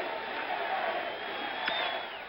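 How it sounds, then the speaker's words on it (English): A steady, dense roar from the crowd at Yankee Stadium during Game 1 of the 1977 World Series, Dodgers at Yankees, filling the whole stretch at an even level with one short sharp accent near the end. "Reggie is not beguiled by the current approving roars of the crowd"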